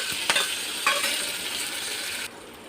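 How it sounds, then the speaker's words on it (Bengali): Chopped garlic sizzles steadily in a hot pan, broken by a few sharp scrapes and knocks of a stirring spoon, before the frying hiss drops away abruptly near the end. "এবার প্রথমে রসুন কুচিগুলো দিয়ে দেবো। এখানে ভাজা হয়ে গেলে এবার একে একে সব দিয়ে দেবো।"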